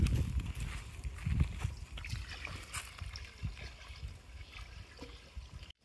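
Mushrooms being washed in water in a village kitchen: soft, continuous trickling and sloshing with occasional splashes and handling knocks, close but fairly quiet, with faint background sounds.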